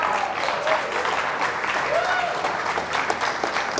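Audience applause follows a conference talk at a tech week event in Mexico. It is steady, moderately loud clapping throughout, with faint voices underneath.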